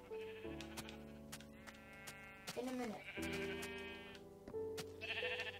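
Sheep in the video game Minecraft bleat in a series of wavering, nasal calls, several in a row at a moderate level, while a person talks briefly over them.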